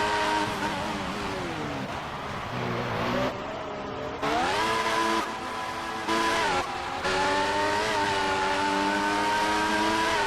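Racing cars in an F1 video game race at Canada scream past with high, rising and falling engine whines, gear shifts dipping the pitch, several cars overlapping at steady loudness.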